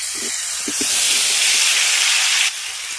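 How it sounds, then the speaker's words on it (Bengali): Mustard and green chili paste goes into hot tempered oil and hisses loudly, a steady close sizzle that swells in the middle and then eases slightly. "তারপর আমি যে সর্ষে বাটাটা পেটে রেখেছিলাম সর্ষে আর কাঁচা লঙ্কা বাটাটা এর মধ্যে দিয়ে দেবো"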